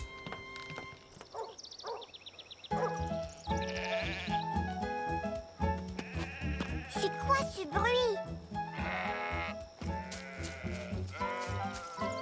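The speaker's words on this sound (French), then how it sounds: "Des moutons? Youpi, grand-mère, regarde! Des moutons!" Sheep bleat repeatedly amid cheerful background music, with a voice speaking briefly near the start.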